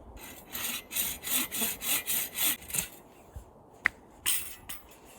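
A handsaw cuts through wet wood at a bushcraft camp, nine or so close, even rasping strokes, a short pause with a sharp click, then one more stroke.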